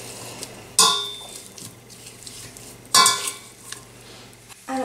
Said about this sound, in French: je vais la réduire en purée à l'aide de l'écrase purée